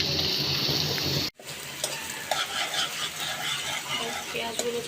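Chopped onion with bay leaf, cardamom and cinnamon frying in about two cups of hot oil, a steady hiss and sizzle interrupted by a brief silent cut, then resuming with occasional crackles.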